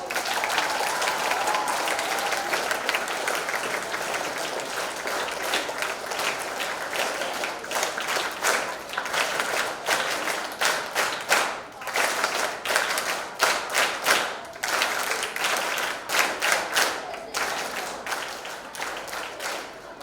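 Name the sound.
audience clapping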